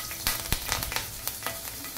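Two green chillies fry in hot oil in a pan, giving a quiet, continuous sizzle with scattered crackles and pops.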